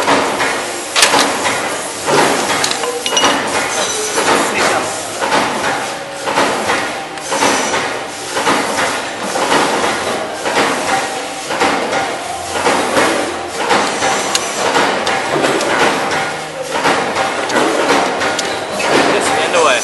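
A hammer strikes a medium butterfly latch again and again during an abuse test, a long run of loud, sharp metallic impacts in a fairly regular rhythm, with a voice talking now and then between hits.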